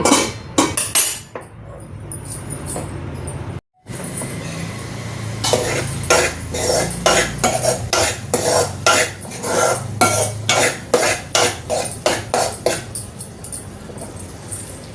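Ridge gourd and chana dal curry stirred in a pot, with a run of repeated scraping, clinking utensil strokes against the vessel, close and fairly loud, after a brief pause.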